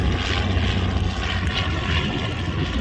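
A French propeller trainer airplane at a WW2 weekend airshow, its engine drone steady and fairly loud throughout, a continuous low rumbling roar with slight pulsing.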